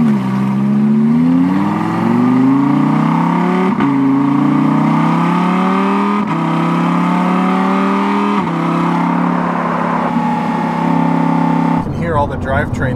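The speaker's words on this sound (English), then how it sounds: "You can hear all the drivetrain noise." Lamborghini Huracan LP610-4 accelerating hard through quick gear changes, engine pitch climbing then dropping at each shift, loud and close from inside the car with drivetrain whine, a voice talking briefly near the end.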